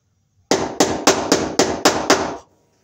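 Hammer driving a cable staple into wood, seven sharp, evenly spaced strikes in quick succession, loud and close, then silence.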